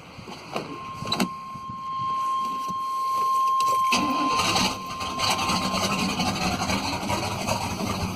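A 1991 Chevy 1500 with a 5.7 V8 and no muffler cranks with a rising whine, then catches into a loud, rough, raspy idle that rumbles on, close and unmuffled.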